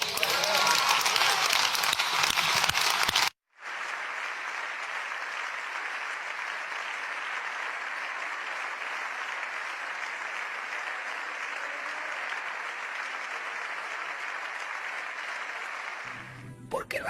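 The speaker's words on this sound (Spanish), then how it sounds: "señorías, les pido que aplaudamos en pie a María Corina Machado" A parliament chamber rises in a standing ovation, sustained dense applause filling the hall for about thirteen seconds after a brief burst of talk and a short gap, loud and steady before cutting off.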